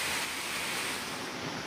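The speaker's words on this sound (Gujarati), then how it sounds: "વરસાદને કારણે નદીનો ભયંકર આ ધસમસતો પ્રવાહ જોવા મળ્યો છે" A river in spate after torrential rain in Varal village near Sihor, Bhavnagar, surges with a steady, loud, broadband rushing roar that continues throughout.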